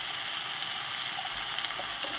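Onions and spring onions for special fried rice hiss in a pan in a dense, steady sizzle, close and fairly loud, with no voices.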